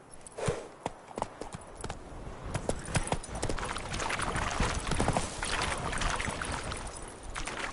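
Horse hooves clip-clop at a gallop in The Witcher 3, a steady rapid rhythm of close, fairly loud hoofbeats running without pause, with no talk over them.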